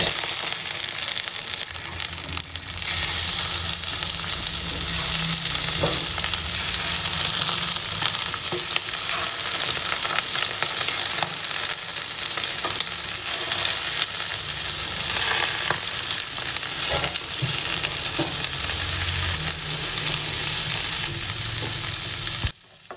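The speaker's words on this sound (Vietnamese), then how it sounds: "Đây, mình chuẩn bị chiên đây." Stuffed squid fries in hot oil, a loud, continuous close sizzle with scattered pops and crackles that runs without a break until it cuts off at the end.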